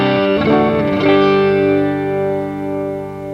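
A low-output Stratocaster with lipstick pickups is played through a BearFoot Uber Bee distortion pedal: two fuzzy strummed chords ring out with a thick, buzzing tone and sustain slowly fading.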